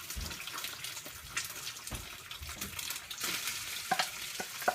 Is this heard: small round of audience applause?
no